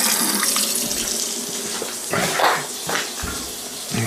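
Tap water runs steadily into a sink while a large specimen is rinsed clean, with a continuous near rushing stream and a few brief splashing surges.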